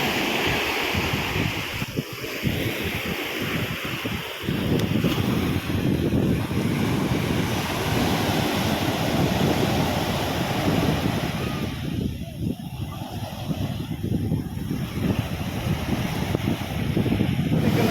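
Sea waves roll in and break on Kochi beach in a continuous roaring surf, heavy with wind buffeting the microphone, loud and close, with the rush swelling and easing over time.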